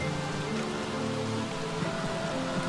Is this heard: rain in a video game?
yes